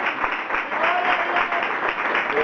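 Church congregation applauding for Jesus, a steady continuous wash of hand clapping from a crowd, moderately loud and unbroken throughout.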